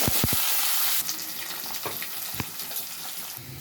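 Steady, loud sizzling of onions and curry leaves frying in hot oil, with a few clinks of a utensil near the start and occasional stirring scrapes; close by, no talking.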